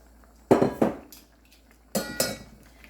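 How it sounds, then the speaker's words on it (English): A spoon scraping and clinking against a pan while beef tips and gravy are stirred, two short pairs of close metallic scrapes separated by a quiet pause over a faint low hum. "we're just going to stir this up"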